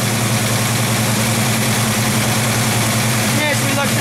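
A 1968 Ford Mustang engine idling with its alternator whirring, a loud, steady low rumble with a constant hum and no change in pace.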